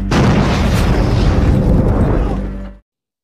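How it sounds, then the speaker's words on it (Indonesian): A planted bomb explodes in a loud, sustained roar for nearly three seconds, deep and rumbling, then cuts off abruptly to silence. "bom yang dipasang oleh Damian dan Bull tadi meledak"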